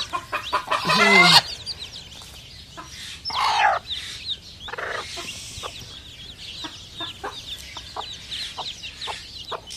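Native hens cluck and chicks peep in scattered short calls, with a couple of louder squawks near the start, fairly close by.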